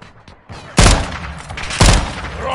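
Two loud bursts of gunfire about a second apart in Call of Duty Modern Warfare II, each sharp and crackling over a quieter background of game ambience.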